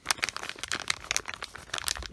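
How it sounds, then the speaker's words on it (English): A small plastic zip-top bag holding doll clothes is opened by hand, giving quiet, close, irregular crinkles and rustles in quick bursts. "Oh, they're in like a little Ziploc baggy kind of thing."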